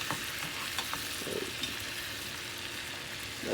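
A McApple pie frying in butter in a pan, a steady close sizzle with faint occasional scrapes and stirring clicks throughout, no voices.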